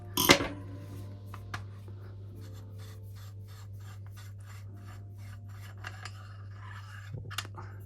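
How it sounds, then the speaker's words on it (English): A small screwdriver turns a hex bolt on a Novritsch SSX-303 airsoft rifle, making faint, close scraping and rasping with light taps over a steady low hum, plus a sharper click at the start. "A small screwdriver. Another little hex bolt on there."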